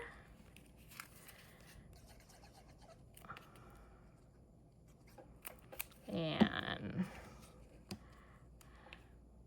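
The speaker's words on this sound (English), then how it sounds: "sticking it into your trimmer, give it a nice clean cut" A paper trimmer slices through cardstock in one short, scraping cut about two-thirds of the way in, standing out against an otherwise quiet room with faint handling noises.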